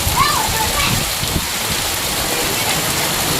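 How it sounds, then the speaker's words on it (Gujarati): Heavy rain pours down outside, a dense, even hiss of a downpour that stays loud and unbroken throughout. "બહાર ધોધમાર વરસાદ છે"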